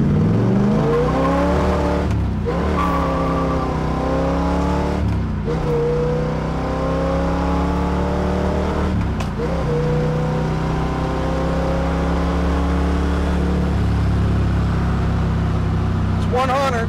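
Big-block engine of a 1969 Chevrolet Camaro SS in Baldwin Motion style, revving hard in repeated climbing pulls with sharp drops between, loud and close in a muscle car showroom, with a voice speaking beneath the engine.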